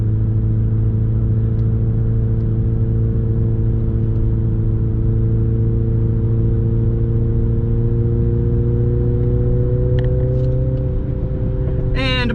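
A manual, all-wheel-drive Mini John Cooper Works Countryman accelerates, its engine a loud, steady, close drone heard from inside the car for the whole stretch, with a slight shift in pitch near the end.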